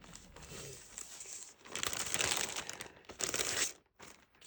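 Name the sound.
handling a piece of tape on paper craft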